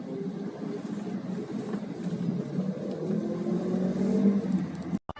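Motorbike traffic on a street in Thailand, a continuous engine drone of passing bikes rising and falling close by, then cutting off abruptly at the end.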